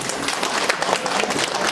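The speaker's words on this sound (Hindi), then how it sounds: "अपने सम्मान के लिए जोरदार ताली बजाइए" Audience at an event standing up to give loud, sustained applause for themselves, dense clapping close and steady throughout with no pauses.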